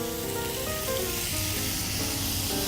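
Steady, loud sizzling of mince frying in hot extra virgin olive oil, a continuous crackling hiss with no talking.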